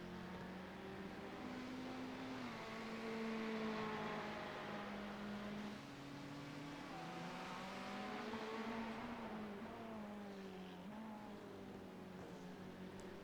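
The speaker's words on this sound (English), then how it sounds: "Now let's see if McCombs, with a clean track ahead of him, can start putting down some hot laps." Race car engines in a sports car series race hum continuously, rising and falling in pitch as the cars accelerate and shift through laps, heard fairly faint and at a distance.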